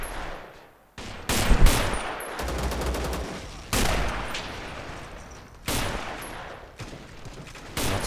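Gunfire and explosions in Men of War: Assault Squad 2 multiplayer combat, a defensive line being blown apart: loud bursts of rapid firing and booming blasts repeating in waves, with no talking over them.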